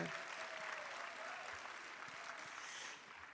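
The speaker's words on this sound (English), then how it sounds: "So yes, more than worthy of a round of applause." Faint applause from a crowd, steady clapping throughout that eases off slightly toward the end.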